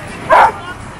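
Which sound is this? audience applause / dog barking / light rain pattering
dog barking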